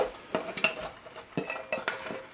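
A utensil stirs and scrapes through a potato filling as cheddar cheese is folded in, giving quick, close clinks and scrapes against the bowl in an uneven rhythm.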